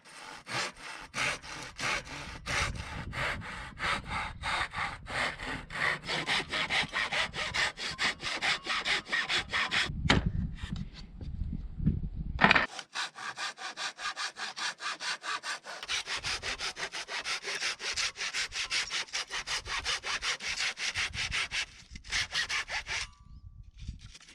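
A small hand saw cuts through wood at an off-grid workshop in Portugal, a steady close rasp of strokes that pauses briefly partway through, then resumes.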